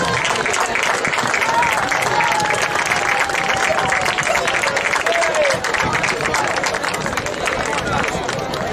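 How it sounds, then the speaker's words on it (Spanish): Crowd applause for the winning women's team at a beach handball trophy ceremony in Moaña, a dense, steady wash of clapping and cheering heard outdoors, with a faint voice weaving through it. "Un fuerte aplauso para las campeonas."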